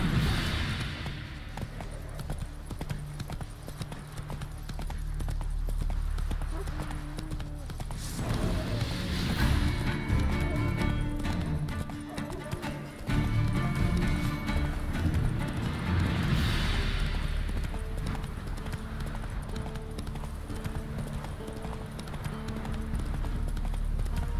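Roach the horse from The Witcher 3 galloping, hooves clip-clopping in a fast, steady rhythm close by, running throughout with a brief spoken line over it.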